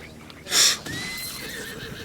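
A horse in the video game Breath of the Wild gives a sudden loud whinny, a bright burst followed by a wavering, fading neigh over soft background game noise.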